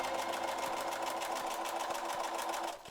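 A sewing machine runs steadily while stitching white fabric for an Edwardian-style slip, a fast, even, whirring rattle that is close and fairly quiet, stopping abruptly at the end.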